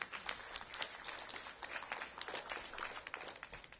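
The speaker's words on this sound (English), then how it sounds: "I think it's cause for one more round of applause" Audience applause at a mayoral press announcement of school test results, a steady dense clapping that fills the whole few seconds with no voices over it.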